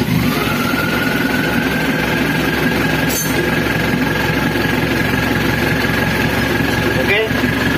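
An Isuzu Panther turbo diesel engine with a leaking turbo idles in a steady, continuous rumble and hum, with an even drone and a voice occasionally audible over it.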